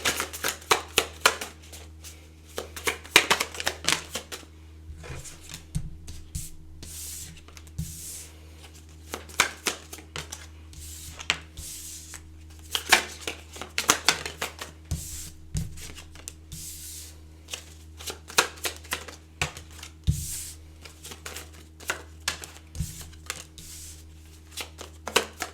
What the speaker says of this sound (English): let me pull some cards and kind of feel out this energy for you